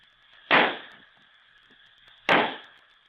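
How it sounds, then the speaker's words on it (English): Roman candle fireworks go off in two sharp, loud bangs about two seconds apart. Each bang is followed by a brief fading crackle over a steady background whine. "The fireworks display is just starting."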